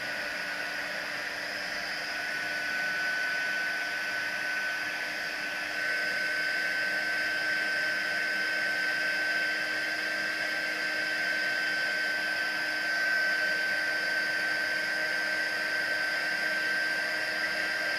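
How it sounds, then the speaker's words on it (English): A heat gun used for embossing runs with a steady, constant blowing roar, with a faint high whine, no pauses or talk. "You've got your heat gun."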